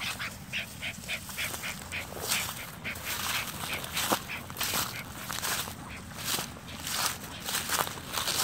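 A live duck quacks repeatedly near a German wirehaired pointer pup outdoors, with rustling footsteps through vegetation, moderately close and steady throughout.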